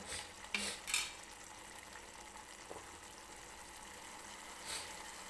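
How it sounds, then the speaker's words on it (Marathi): Masala for a pavta (field bean) curry cooking in a pan, with a soft steady sizzle broken by a few brief scraping stirs near the start and another near the end, fairly quiet and with no talking. "आणखीन एक दोन मिनटं मी शिजवून घेणार आहे असाच हा मसाला"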